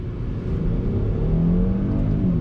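A 2019 Mercedes-Benz S450 with twin turbos pulls away from a dead stop in first gear under throttle, its engine a low steady drone heard from inside the cabin, rising gently in pitch as it accelerates.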